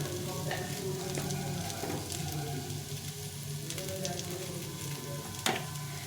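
Spices and ginger paste with salt, turmeric and cumin fry in a pan for sago khichdi, a steady close sizzle with light stirring scrapes throughout.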